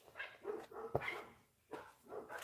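Several dogs barking at a neighbor next door, a few sharp woofs and yips in separate bursts, close and fairly loud, with short pauses between outbursts.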